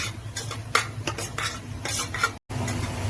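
Mutton being added to roasting masala in a pan with a little oil, heard as close scraping and stirring with a steady sizzle and clinks of a utensil against the pan, with a brief gap near the end.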